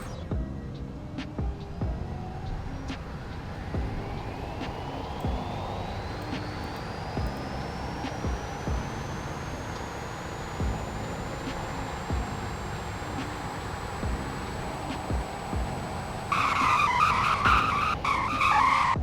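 A car in the Roblox game Greenville, the 2014 Celestial Type 4, accelerates with a steadily rising engine whine through a long speed run, then tires skid loudly near the end.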